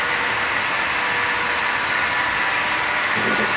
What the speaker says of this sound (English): Bringing up the rear is the bay window caboose on the C&NW freight.